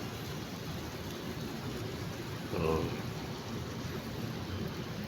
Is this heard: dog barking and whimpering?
no